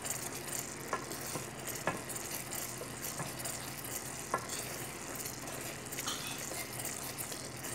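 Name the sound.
food simmering and sizzling in a pan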